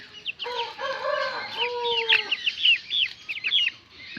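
Watercock chicks calling close by: a busy run of short, high chirps and peeping notes, some rising and falling, repeated over a few seconds with no voices.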